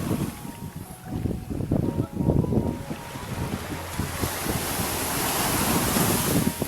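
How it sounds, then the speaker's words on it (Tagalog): Ocean surf breaks and washes onto a beach at a Philippine resort in Digos, Davao del Sur, a steady loud roar with rolling surges, mixed with wind buffeting the microphone. "Ganda ng ano ng wave."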